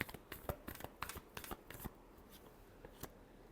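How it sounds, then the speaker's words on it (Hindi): Tarot cards are shuffled close up in a quick run of crisp riffling snaps, then slower, softer flicks trail off into quiet. "last shuffle"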